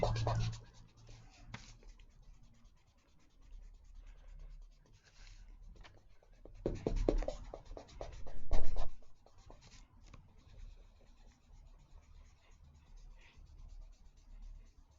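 Charcoal pencil drawing on paper, with a steady scratchy rubbing of the tip across the sheet that surges into louder, denser strokes midway before settling back to light sketching.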